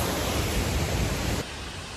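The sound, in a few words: waterfall roaring beside the trail at Joffre Lakes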